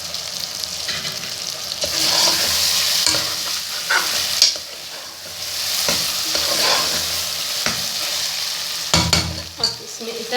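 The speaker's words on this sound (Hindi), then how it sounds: "और 1-2 मिनट तक आलू के साथ भी इसको भूनेंगे।" Potatoes and minced meat fry in a pan with a continuous sizzle, while a utensil scrapes and stirs through them in irregular strokes, with a few sharper knocks against the pan, close and steady throughout.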